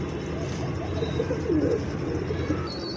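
A pigeon held in the hand for vaccination gives soft, low cooing calls over a faint background hum, with a few quiet murmured coos rising and falling.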